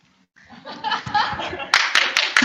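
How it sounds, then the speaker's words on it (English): Applause with some laughter at a Toastmasters speech event, clapping swelling after a brief quiet start and growing into sharp, dense bursts in the final second. "Applause, applause for unpaid work."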